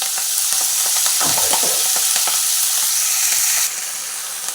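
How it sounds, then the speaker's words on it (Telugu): Fenugreek leaves stirred and frying in a hot pan, a steady broad sizzle with scraping stir strokes throughout, the sizzle easing slightly near the end; no talking. "మెంతాకు దీన్ని బాగా కలుపుకుందామండి"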